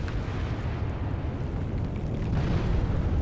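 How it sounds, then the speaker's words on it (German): A loud, sustained rumbling blast roars continuously, a dense video game explosion sound with no pauses. "Wow, da kommt die Explosion"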